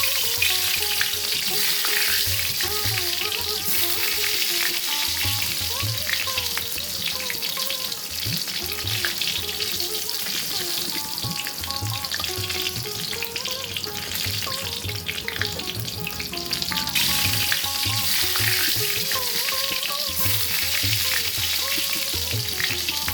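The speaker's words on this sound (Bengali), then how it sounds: "তেল গরম হয়ে গেছে, এবার আমি মাছগুলো একে একে লাল করে ভেজে নেব।" Koi fish fry in hot mustard oil in a kadai, a loud, steady sizzle and crackle that runs throughout, with occasional stirring clatter and no talking.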